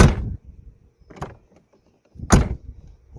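Mercedes-Benz W245 car door opened from outside: a handle pull and latch clack, a brief mechanical rattle, then a louder thunk as the door releases, close and alone.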